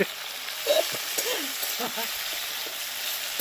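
Tomato frying in a pan for khichuri, a soft steady sizzle with a few stirring scrapes near the start, close and fairly quiet.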